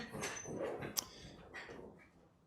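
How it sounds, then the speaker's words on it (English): A dog gives a few short, faint yips and whimpery barks at a distance, the sound rising and falling briefly against a quiet room. "Dog."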